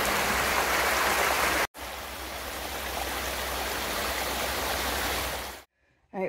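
A small natural water stream trickles and babbles steadily in a campground, a close, continuous rush of running water that cuts out briefly twice.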